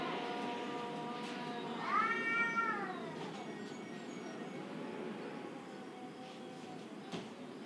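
A cat gives one drawn-out, wavering meow in the middle, moderately close, over a low steady background hum, with faint rustles afterward.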